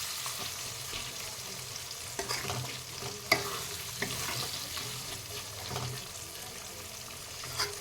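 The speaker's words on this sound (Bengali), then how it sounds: "টমেটোটা দিয়ে দেবো। ভালো করে টমেটোটাও নাড়িয়ে নেব।" Chopped tomatoes fry in a pan for chicken biryani while being stirred, a quiet steady sizzle broken by irregular spatula scrapes and a sharp tap, close up without speech.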